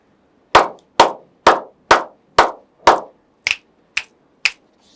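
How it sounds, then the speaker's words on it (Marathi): Nine sharp claps and snaps in steady succession, six fuller hand claps followed by three lighter finger snaps, used for counting in a primary-school numeracy lesson; close, loud and alone with no talk. "मी इथे टाळ्या आणि चुटक्यांचा वापर करणार आहे"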